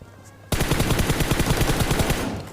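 A rapid burst of automatic gunfire in PUBG Mobile starts abruptly and keeps a fast, even rhythm of close, loud shots for about two seconds.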